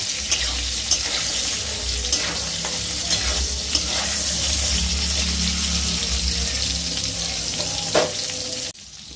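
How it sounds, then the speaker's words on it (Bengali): Pointed gourd (potol) frying in oil over a medium flame, a steady loud sizzle with occasional stirring clicks and scrapes, continuing without talk until it cuts off near the end. "ওই তেলেই আমি পটলগুলো ভেজে নেব পটলগুলো কিন্তু খুব সুন্দরভাবে লাল করে ভেজে নিতে হবে"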